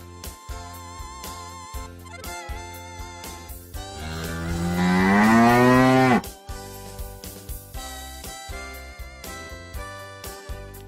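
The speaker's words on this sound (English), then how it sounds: "Cow." A cow moos once, long and loud with a rising then falling tone lasting about two seconds, heard over light rhythmic background music.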